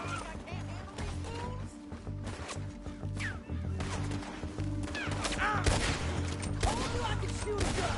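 A Red Dead Redemption 2 shootout rattles with a rapid, continuous volley of gunshots, some close and sharp and others layered behind, keeping up a steady barrage throughout.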